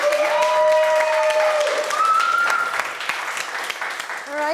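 Round of applause at The Drum Search Awards 2022 ceremony, steady dense clapping from a large audience throughout, with cheering voices riding over it.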